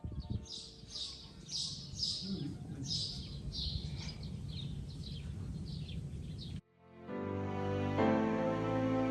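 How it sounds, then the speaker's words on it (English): Birds chirp and sing outdoors at a nature getaway near Casablanca, Morocco, with repeated bright tweets over a low background murmur before the scene shifts to a steadier tonal ambience. "while listening to the singing of the birds."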